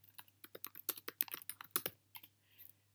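Fingers type on a computer keyboard in a quick irregular run of about twenty crisp clicks, close and quiet, tapering off with a couple of final taps and no talking.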